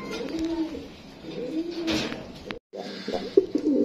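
A pair of white Lakka pigeons coo nearby in soft, repeated throaty calls, a few rolling phrases with a brief pause between them, close and fairly quiet.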